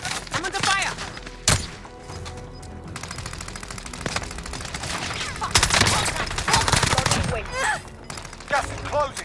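Gunfire in the battle royale game Call of Duty: Warzone, bursts of automatic and single shots crackling throughout, with a sharp close report near the start, all mixed with ongoing game noise and people talking.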